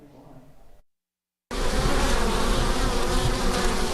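Dense, loud buzzing of a large swarm of honeybees living inside a house wall in Pennsylvania, continuous and close, following a brief quieter stretch and a moment of silence.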